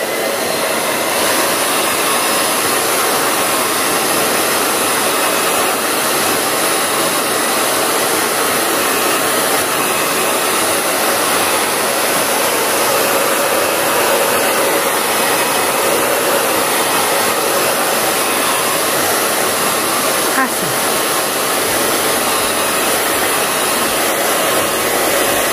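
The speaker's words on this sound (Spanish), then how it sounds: "voy a proceder a usar el secador para ayudarlo a agrietar" A hair dryer blows steadily on crackle paint to dry it, a loud, close, unbroken whooshing hum lasting the whole stretch with no voices.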